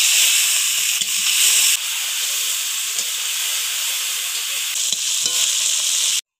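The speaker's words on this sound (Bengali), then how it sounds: "মাছ দিয়ে দিব।" Fish frying in mustard oil in a hot wok, a loud, steady sizzle and hiss that holds without a break, with a few soft clinks of stirring and no talk.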